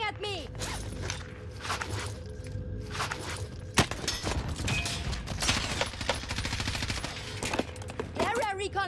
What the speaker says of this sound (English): The bastards are shooting at me.